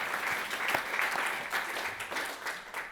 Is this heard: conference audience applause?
yes